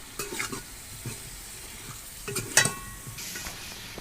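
Half a kilo of boiled black chickpeas is stirred into a sizzling ghee gravy for a Peshawari kabuli pulao. A quiet, continuous sizzle runs beneath intermittent scraping stirs, with one sharper clink of the spoon against the pot.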